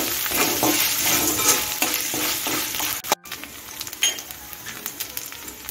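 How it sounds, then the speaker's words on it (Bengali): Ginger paste sizzling and frying with onion and garlic in a pan, a steady dense hiss broken by scraping stirs, with a brief cut near the middle before frying resumes. "আদা পেস্ট একটু কষিয়ে নিচ্ছি"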